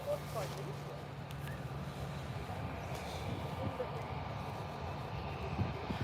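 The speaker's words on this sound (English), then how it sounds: "Ryanair 737 heading out." A Ryanair Boeing 737 departing Birmingham airport gives a steady, distant jet roar that holds evenly throughout, with faint background noise and no clear voices.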